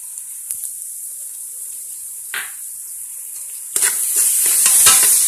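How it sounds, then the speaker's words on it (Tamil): Onions and ginger-garlic paste frying for prawn biryani, a steady close sizzle throughout that swells louder near the end as the paste hits the pan, with a brief stir scrape in the middle and no talking. "அந்த இஞ்சி பூண்டு விழுத இப்ப சேர்த்து இது கூட வதக்க போறோம்"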